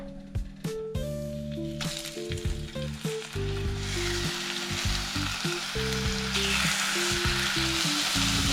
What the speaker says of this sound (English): start frying up our fish